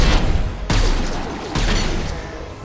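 Gunfire from the video game Mass Effect 2: two loud sharp shots about a second apart, each leaving a booming, ringing decay that fills the short stretch.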